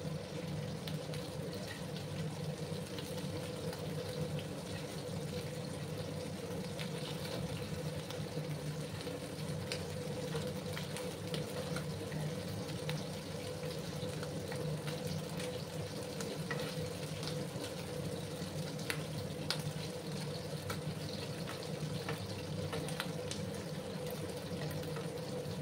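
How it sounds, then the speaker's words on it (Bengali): Tangra fish frying in a pan over a medium gas flame, a steady dense sizzle and crackle running continuously at moderate level with no voices. "কম সময় নিয়ে আমি মাছগুলোকে আর একটু ভেজে নিচ্ছি"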